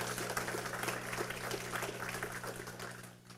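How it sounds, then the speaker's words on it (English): An audience at a winter workshop gives a speaker a round of applause, with soft, steady clapping from many hands continuing for a few seconds and fading slightly at the end over a low hum. "Let's give him a round of applause."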